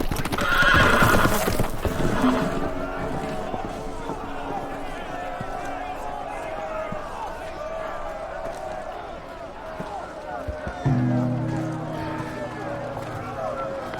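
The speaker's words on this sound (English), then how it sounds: "The horses! They're loose!" Horses neigh loudly and hooves clatter in a rapid gallop, with shouting voices and crowd noise around them, in the video game Game of Thrones: A Telltale Games Series.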